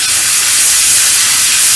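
An airbrush sprays paint onto the wheels of a Stug III scale model, a loud, close, steady hiss of air running unbroken throughout.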